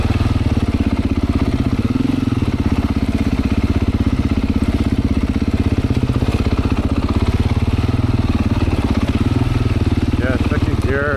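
Beta 500 dirt bike in second gear on single track: a loud, close, steady engine drone with rapid pulsing firing throughout, a voice briefly over it near the end.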